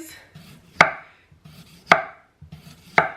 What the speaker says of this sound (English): I'm just going to slice these.